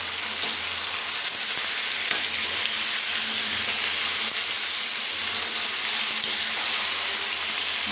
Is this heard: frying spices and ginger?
yes